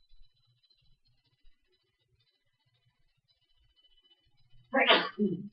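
A single sharp sneeze bursts out close by in a quiet math classroom, loud and sudden after several seconds of near silence.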